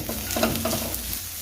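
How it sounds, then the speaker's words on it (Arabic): A chicken and soft-cheese filling seasoned with black pepper and salt sizzles in a pan while being stirred, with soft scraping strokes over a steady frying hiss. "حرك"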